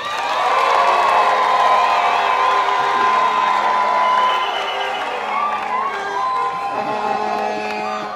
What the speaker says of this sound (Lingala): Lecek Abdallah, de venir prendre la parole sous vos applaudissements éminents